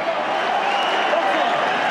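Boxing crowd roaring for Ricky Hatton as he lands punches in the ring, a loud continuous wall of cheering and chanting in a packed arena.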